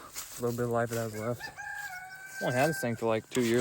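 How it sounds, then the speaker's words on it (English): Backyard chickens cluck and a rooster crows, the birds clear and fairly close, while someone talks over them in between outdoor chores. "Y'all can hear my chickens in the background."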